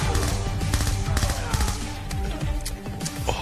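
Rapid automatic gunfire in the video game Call of Duty Black Ops II, a dense, loud, continuous burst of shots filling the whole stretch with clattering game action and no pause.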